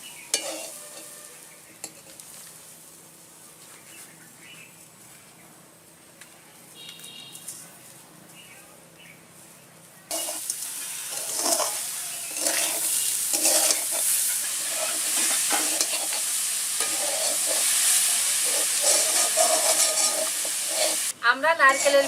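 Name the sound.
frying and stirring coconut with sugar in a pan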